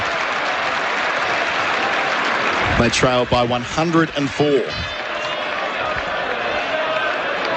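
Cricket crowd at a Test match between England and New Zealand in Leeds applauding a defended dot ball, a steady wash of clapping under a commentator's voice that rises briefly.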